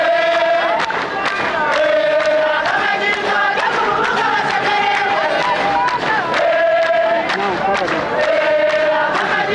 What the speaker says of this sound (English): President Yoweri Museveni waves to the cheering crowd who have come here in full force to welcome him to the Republic of Rwanda